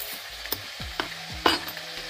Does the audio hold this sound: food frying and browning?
yes